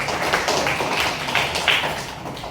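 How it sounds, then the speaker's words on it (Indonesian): A classroom of students clapping together in a religious lesson, a dense, continuous patter of many hands at steady loudness throughout, close and unbroken, with no clear voices. "Ayo tepuk tangan"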